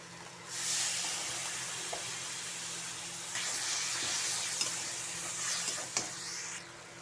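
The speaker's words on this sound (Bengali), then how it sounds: "সামান্য একটু জল দিয়ে দেব," Spice paste for a jackfruit curry sizzles and hisses steadily in a hot pan after a little water goes in, a close, continuous frying hiss with occasional pops.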